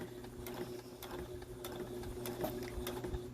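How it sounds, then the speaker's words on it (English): A sewing machine stitches a fabric mask with a quiet, rapid, regular ticking of the needle, steady throughout and fairly close. "you're going to turn and finish sewing all the way to the end"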